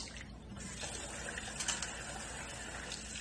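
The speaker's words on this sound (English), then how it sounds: "And again, put some water in it." Water trickling and splashing into the valves of a horn being washed, a steady close wet wash of running liquid with no voices.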